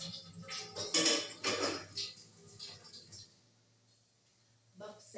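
A lid is set over a cooking pot with a couple of clanking metal knocks and rattles up front, followed by quieter handling noise, with voices faintly in the background.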